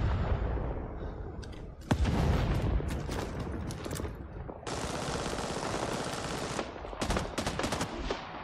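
Gunfire in the Vietnam-era shooter game Rising Storm 2: Vietnam, with an Australian force defending with an L1A1 rifle: sharp close shots and bursts in irregular rapid clusters over a dense rumbling battle backdrop.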